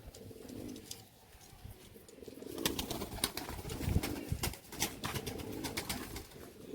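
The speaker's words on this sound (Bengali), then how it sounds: "এখানে ব্রিডার কবুতর আছে, এখানেও কিছু উড়ানোর কবুতর আছে।" Rajshahi local Giribaj pigeons, flying and breeder birds kept in a loft, coo in low, repeated throaty rolls. Several birds overlap close by, with brief sharper chirps and flutters mixed in.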